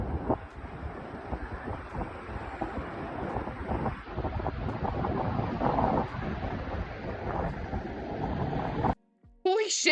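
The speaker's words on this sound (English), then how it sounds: "This guy wanted to show how windy it was in New Zealand." Strong wind in New Zealand buffets the microphone in loud, rough gusts with a roaring rumble that surges and dips, ending abruptly with a brief burst of other sound.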